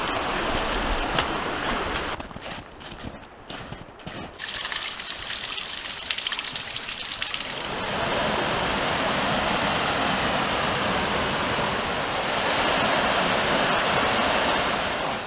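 A backcountry river rushing loudly at a hiking crossing on snowy Vancouver Island, a steady close roar of gushing water that briefly thins out before surging back, with no talking.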